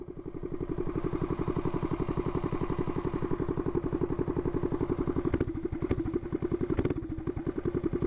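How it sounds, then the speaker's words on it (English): A motorcycle engine that sounds a little off runs steadily with a rapid, chugging pulse, loud and close, with a few brief clattering knocks near the end. "Engine sounds a little weird."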